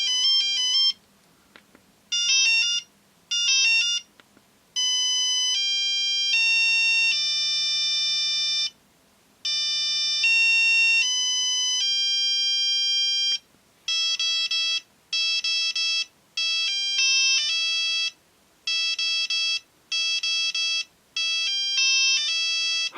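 Beeping monophonic ringtone melody from a 1996 Philips Fizz mobile phone, loud and close, a run of short electronic notes in bursts with brief gaps, and slightly off pitch.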